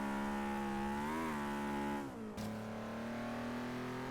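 A Honda S2000 engine in Forza Horizon 3 revs high and rises in pitch, drops sharply at a gear change, then climbs again as a loud, sustained VTEC wail with no talking.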